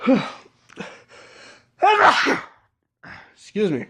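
A sneeze bursts out at close range in a short two-part fit, then a brief second sneeze follows; a person speaks briefly in between.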